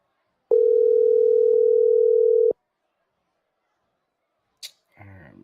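A single long steady telephone ring tone sounds clearly for about two seconds from an outgoing phone call, followed by silence and a brief voice.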